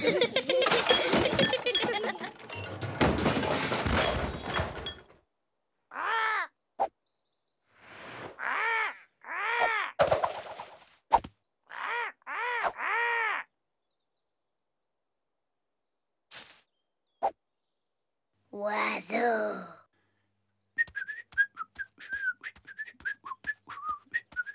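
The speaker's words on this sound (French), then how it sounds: "Oiseau. Oiseau." Cartoon crows caw in loud, harsh bursts, alone and in quick runs of two or three, with silent gaps between them, then a stretch of faint chirps and taps. A burst of music or voices comes before the cawing.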